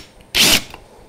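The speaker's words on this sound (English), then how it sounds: "I'm just doing a little tiny countersink" A drill bit cuts a tiny countersink into a masking tape dispenser, a single short buzzing burst of about a quarter second, close and fairly loud, between quiet moments.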